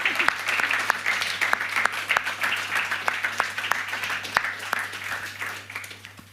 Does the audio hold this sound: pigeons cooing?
no